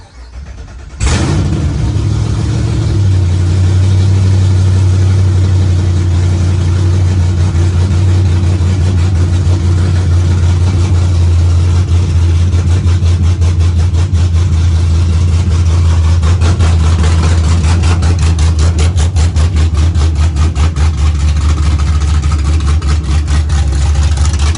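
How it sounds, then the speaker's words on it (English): A Chevrolet Camaro with a freshly rebuilt transmission cranks over and catches, then settles into a loud, steady idle that runs on for about twenty seconds with a slight rise in revs toward the end; no voices. "I told my girl to start the car"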